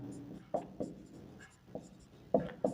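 Pen or marker strokes while writing out a Class 7 maths solution on square and circle area, giving soft scratchy taps in short bursts with pauses, fairly close and quiet, no talking.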